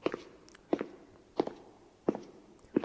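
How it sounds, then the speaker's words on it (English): Footsteps approach through a dark plaza in Honkai Impact 3, four evenly spaced, fairly firm steps with a hard, slightly echoing thud, heard alone with no talking. "Footsteps approached her in the darkness."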